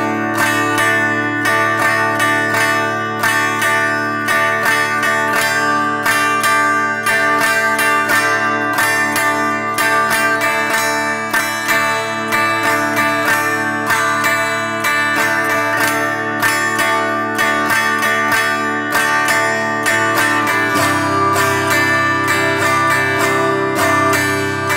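Strummed guitar cycles through a D Mixolydian chord progression, each chord held for two measures, in a steady, loud, continuous rhythm with no voices.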